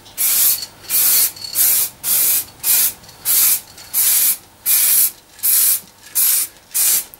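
Fine coats of finish sprayed onto a pinball machine cabinet in ten or eleven even, loud hissing bursts, each about half a second long and separated by short pauses, close up with no talking.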